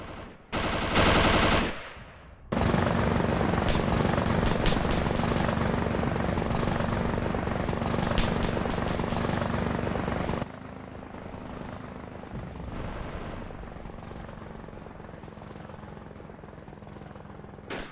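AH-64 Apache helicopters in flight during a firefight: a steady, loud rotor roar runs throughout with bursts of rapid machine-gun fire crackling over it, then the roar drops slightly in level.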